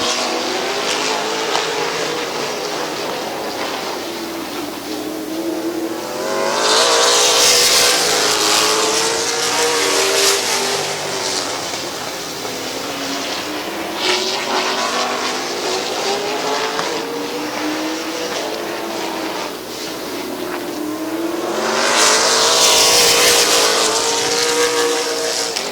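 Race cars roar around Midvale Speedway in a September 2019 event, engines whining and sweeping in pitch as the pack laps continuously, with two loud, close passes rising out of the constant droning field.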